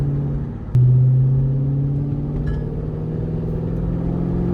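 A Chrysler 300 with a Scat engine swap pulls hard, a loud, close, steady engine drone with a sharp jump in level near the start, then a sustained rumble that holds as the car accelerates.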